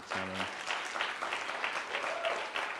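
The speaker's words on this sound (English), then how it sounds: "So let's give another round of applause for them." An audience at a live-streamed event breaks into applause after a short tone, a dense, moderately faint clatter of clapping that continues steadily for nearly three seconds.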